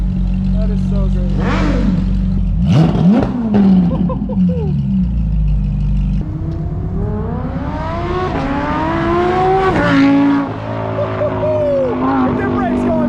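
A custom Nike-themed Lamborghini Huracan revs its engine in rising and falling sweeps, then pulls away loudly close by, with excited voices talking over it.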